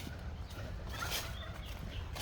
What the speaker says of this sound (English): Oh, I just heard the turkey